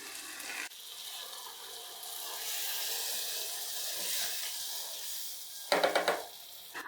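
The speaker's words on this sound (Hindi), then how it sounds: "अब हम इसमें पानी डालेंगे, तकरीबन 1 गिलास के करीब।" Water poured into a pan of frying black-eyed bean masala, a steady loud sizzle and hiss throughout that swells briefly with bubbling near the end.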